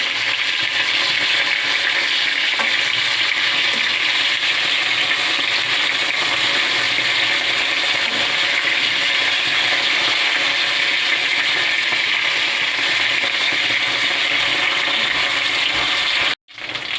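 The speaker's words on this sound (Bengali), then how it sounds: "এবার আমি মাছটাকে উল্টিয়ে দিচ্ছি। দিচ্ছি একটু ভালো ভালো লাল লাল করে আমি ভেজে নেব।" Pieces of bhola fish frying in hot oil, flipped in the pan, give off a steady, even hiss that runs unbroken and fairly close, ending with a brief sharp clatter near the end.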